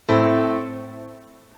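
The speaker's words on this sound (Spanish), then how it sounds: "Este es el sonido de un acorde menor." A minor chord struck once on a sustained, piano-like instrument in a harmony lesson, ringing out alone with a clear attack and slowly decaying tone.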